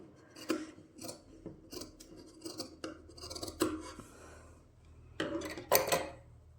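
Scissors cutting fabric for a homemade winter cap, a series of close crisp snips and rasping slices, irregular in rhythm with a louder cluster near the end and no talking.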